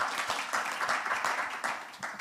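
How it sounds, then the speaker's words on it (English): An audience at a COP27 transport investment session applauds the presenters with sustained, moderately loud clapping from many hands that holds steady for a couple of seconds. "a quick round of applause to all of those, and appreciation to you as well as participants"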